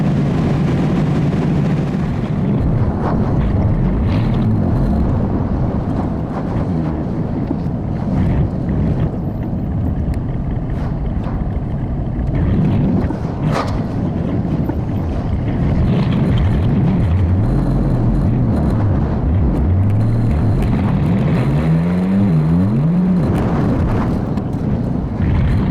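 An old Cadillac cruising on a windy day makes a constant loud rumble of engine and road noise, mixed with heavy wind buffeting the microphone throughout.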